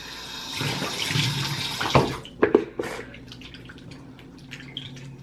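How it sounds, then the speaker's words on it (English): Water runs from a tap while a face is washed with CeraVe cleanser after a run, a close, steady splashing flow that breaks into a few wet slaps and drips before quieting to a faint trickle. "So first thing I'm gonna do is just wash off all this sweat from my run."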